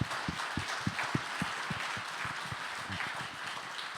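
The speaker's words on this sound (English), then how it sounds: "can we also clap hands for the teacher that inspired that as well" Audience applause at the 2024 Yidan Prize education event, a sustained, evenly dense wash of many hands clapping that holds steady for the whole stretch without voices.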